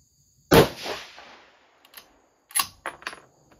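A single sharp rifle shot fired at a shooting range, a loud crack with a short decaying tail, followed by a few quieter metallic clicks and clacks of handling.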